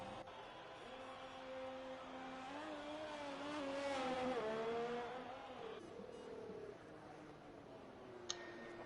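Race cars in a racing video game drone steadily with engine tones rising and falling as they accelerate, quiet and continuous, with a faint click near the end.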